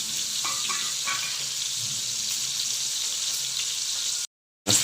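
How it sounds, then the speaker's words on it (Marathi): Soft-shell crab frying in a pan, a constant bright sizzle with faint bubbling and small pops, close and steady before cutting to silence, then resuming briefly, no speech. "त्याला फ्राय करतो आपण मस्तपैकी लोध्या चिंबोरा फ्राय स्पेशल"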